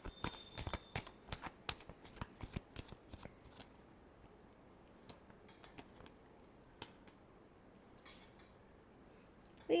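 A deck of tarot cards is shuffled close up, a quick run of sharp riffling snaps at the start that thins into scattered soft taps and near quiet.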